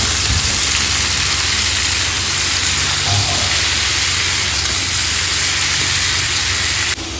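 Cauliflower and potato curry cooking in a pan gives a steady, loud, unbroken hiss and sizzle with no talking over it.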